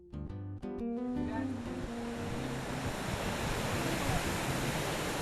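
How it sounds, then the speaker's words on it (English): A waterfall roars in a broad, steady wash of rushing water on a family trip in the northeastern US. It begins under brief voices and a few tonal sounds, then fills the scene loudly and evenly. "There's a waterfall right there."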